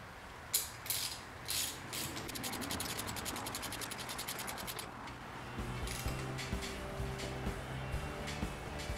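A ratchet turns a 19 mm socket on a Pontiac Fiero 3.4 engine at the harmonic balancer, giving a fast run of close metallic clicks, then quieter scraping and mechanical rubbing.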